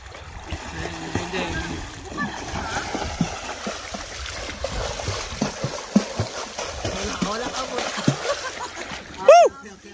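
Someone jumps into clear lake water at Dyers Bay, with scattered splashes and sloshing throughout and a sharp burst near the end, while people talk and exclaim nearby.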